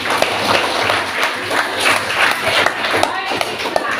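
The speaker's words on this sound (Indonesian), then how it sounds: "tepuk tangan dulu buat ini." A classroom of students clapping for a moment, uneven scattered claps and shuffling with a teacher's voice mixed in, moderately close.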